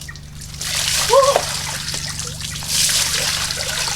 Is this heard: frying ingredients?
no